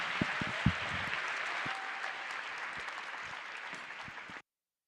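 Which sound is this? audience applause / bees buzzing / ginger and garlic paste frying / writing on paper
audience applause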